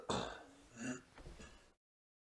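A single person clears their throat in a few rough, harsh bursts, close and fairly loud, followed by sudden silence.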